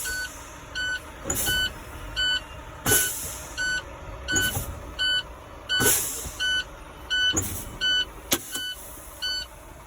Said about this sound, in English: When you release the pedal and they pop up, you call that PSI.